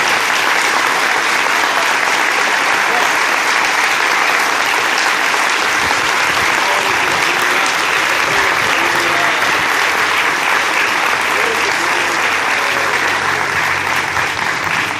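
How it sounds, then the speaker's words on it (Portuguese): A church congregation applauds its pastors with dense, steady clapping. The applause is loud, close and continuous for the whole stretch, with no break or fade. "esses homens merecem a nossa salva de palmas com muito louvor, e eu quero que a igreja faça."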